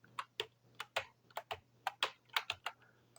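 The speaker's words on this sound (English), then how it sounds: "So I'm using my real keyboard and hitting on keys." Keys of a muted digital music keyboard are pressed in a quick irregular series of about fifteen soft plastic clacks, close and alone over a faint steady hum.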